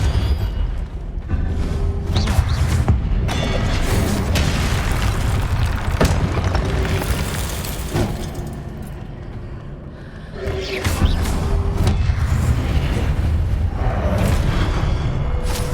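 Confringo fire spells from Hogwarts Legacy burst in repeated loud, booming explosions amid continuous combat noise, with a brief dip before the blasts resume.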